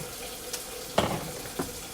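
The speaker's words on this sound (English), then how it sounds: "Put some cold water in this." Cold tap water runs into a casserole dish in a home kitchen, a soft steady trickle with a few brief louder splashes, close and fairly quiet.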